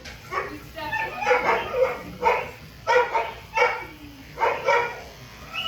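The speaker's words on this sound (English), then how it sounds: "One of my favorite dogs." A dog at a grooming salon gives a series of short whimpering yips and barks in close succession, with people talking nearby.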